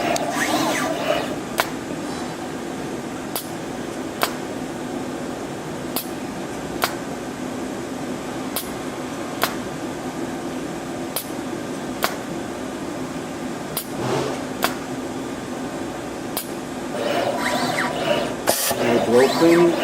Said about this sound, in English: So without further ado, we'll start the robot